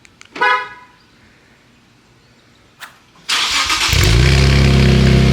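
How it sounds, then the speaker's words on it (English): Infiniti Q60 with a newly installed exhaust makes its first cold start: a short chirp and a faint click, then the engine catches and settles into a loud, steady high idle. "let's give it the first cold start"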